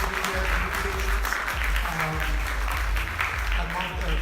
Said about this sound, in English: So a big round of applause, please, for our first panelist